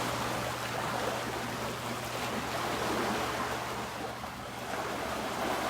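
Swim spa jets running at high setting, set up to 25, produce a steady, loud rush of churning water with a constant low hum from the pump underneath, unbroken for the whole stretch.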